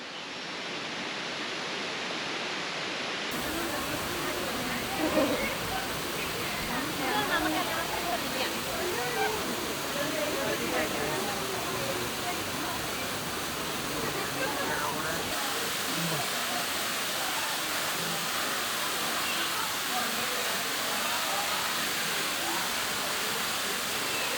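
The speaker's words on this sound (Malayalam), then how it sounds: "നമ്മൾ 1-ാം വെള്ളച്ചാട്ടത്തിലേക്ക് എത്തിക്കൊണ്ടിരിക്കുകയാണ്." Thusharagiri waterfall rushes in a dense, continuous roar of falling water, close and steady throughout, after a brief quieter opening.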